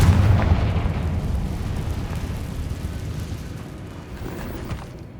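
In Hogwarts Legacy, a Confringo fire spell bursts into a loud, deep, booming explosion that rumbles heavily at first and then slowly fades away, with no voices.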